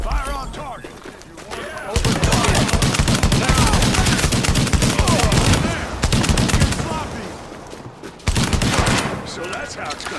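Gunfire in the video game The Division: dense bursts of rapid automatic shots crackle loudly in long volleys, pausing briefly and resuming, with voices calling out between and over the firing.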